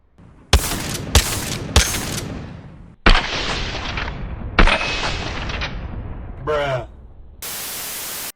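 Mozambique shotgun blasts in the video game Apex Legends, several loud sharp bursts with decaying tails, separated by short gaps and followed by a mechanical reload-like sound and a burst of static.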